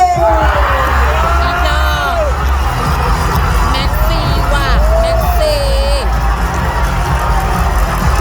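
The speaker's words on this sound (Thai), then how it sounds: "กองเชียร์เม็กซิโก คือเขากรีดเขาตะโกนมาตั้งแต่ต้นแล้ว" Mexican fans in a Miss Universe 2020 pageant audience scream, whoop and cheer loudly and continuously, with shrill rising yells over a dense crowd roar and some voices talking nearby.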